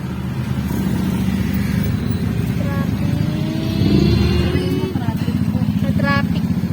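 Busy road traffic in Pandi, Bulacan, slowed by roadworks, with motorcycles and cars passing close by in a steady engine drone, a louder surge midway, and faint voices in the background.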